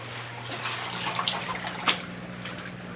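Water runs from a tap with a steady splashing hiss, a low hum underneath and a few brief clinks.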